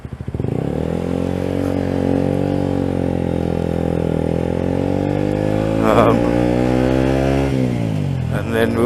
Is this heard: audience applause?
no